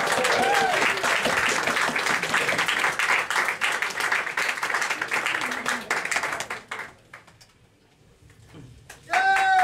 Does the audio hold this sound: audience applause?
yes